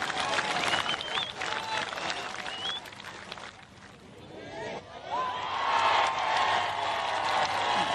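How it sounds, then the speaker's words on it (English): The gallery applauds at the final round of a professional women's golf championship, a broad outdoor wave of clapping and cheers that swells again after a brief lull. "And all Gino can do is clap."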